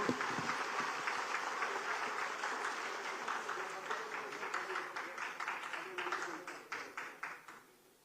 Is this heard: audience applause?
yes